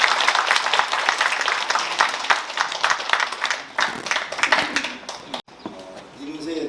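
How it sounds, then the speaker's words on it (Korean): Audience applause at a memorial celebration for the writer Kim Yu-jeong's 118th birthday, following a traditional Jeongseon Arirang song performance: a sustained wash of many hands clapping that thins out near the end, with some voices mixed in. "다시 한번 박수"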